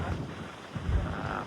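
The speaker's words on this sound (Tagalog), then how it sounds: "Lakas lang yung hangin." Strong wind buffets the microphone on a passenger boat at sea, a steady low roar with gusty swells growing louder near the end, no talking.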